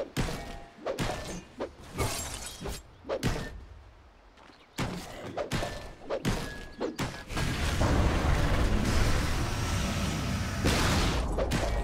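A Dota 2 tower gets destroyed, a run of heavy thuds and crumbling impacts that builds into a loud, sustained crashing roar.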